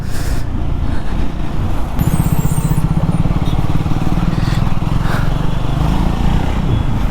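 A Triumph Scrambler 400 X motorcycle is ridden on the road, its engine a loud, steady drone with wind and traffic-like noise throughout and a brief higher tone partway through.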